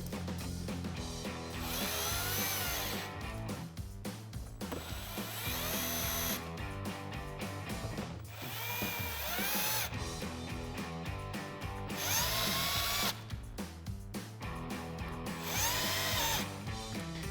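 Power tool with a 7 mm socket running screws back into a 2015-2023 Mustang GT front bumper, steady stuttering whir in repeated bursts throughout, close and continuous.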